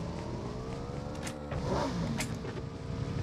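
A vehicle engine in the battle-royale game PUBG runs steadily and fairly loud for the whole stretch, with a brief surge in the middle and no talk over it.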